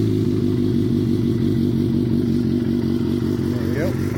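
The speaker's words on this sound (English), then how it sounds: "It does have a bit of cam lope when it first fires up." A 2015 Suzuki GSX-R 750 engine idles close by after firing up. The rumble is loud and steady, with a slightly uneven cam lope.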